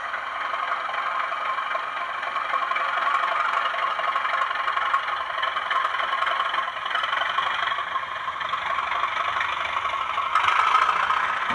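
A Bachmann class 37 model diesel locomotive with DCC sound runs on a layout, giving a steady, fairly loud engine drone with a slight rattle through a small speaker, continuous and unbroken.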